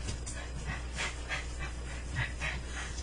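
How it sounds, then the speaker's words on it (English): Dogs indoors pant and whimper softly in a room, with quick breathy bursts repeating over the whole stretch and no one talking. "I got some dogs in here and there"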